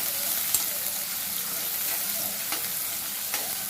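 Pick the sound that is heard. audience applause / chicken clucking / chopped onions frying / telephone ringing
chopped onions frying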